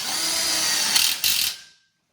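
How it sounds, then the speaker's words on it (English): A power driver whirs steadily as it sinks a self-drilling screw into an outdoor kitchen grill frame, with brief surges near the end before it stops abruptly. "They're self-drilling BBQ Coach screws."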